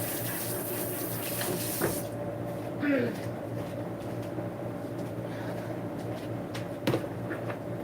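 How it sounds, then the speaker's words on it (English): Tomatoes being rinsed under a running kitchen tap, a steady broadband hiss of water that fills the clip, with brief clatters and a short splash near the middle. "So, I'm going to wash my tomatoes."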